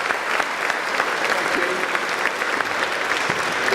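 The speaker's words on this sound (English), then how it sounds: "Round of applause." Round of applause from an audience at a hackathon demo and prize session, steady clapping from many hands at moderate distance, lasting a few seconds with no talk over it.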